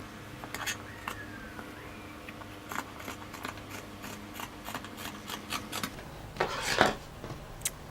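Scissors cutting fabric for a women's garment, with repeated close snips and rubbing cuts spread across the stretch and a louder burst of cutting near the end, plus a faint voice in the background.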